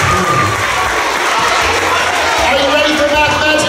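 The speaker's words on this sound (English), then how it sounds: "Give yourselves a really big round of applause." A crowd of school children at a math-magic assembly program claps and cheers loudly, with a dense roar of hands and excited young voices sustained throughout.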